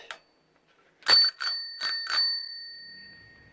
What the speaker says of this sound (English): I put this old bike bell that I salvaged from an old bike, which actually still works.